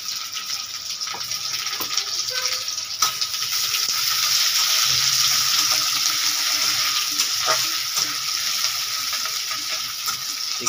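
Sliced onions, with capsicum in the pan, sizzle and crackle steadily in hot oil for a curry, a continuous close frying hiss with occasional stirring clinks and no speech.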